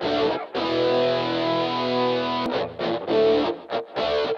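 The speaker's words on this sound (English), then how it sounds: "there's a boost of the gain coming into the distortion, which is a simple clipping distortion circuit" Guitar run through the simple clipping distortion circuit of an MXR Rockman X100: a sustained, harmonically rich distorted chord rings for about two seconds, then several short choppy distorted stabs follow, with no talking.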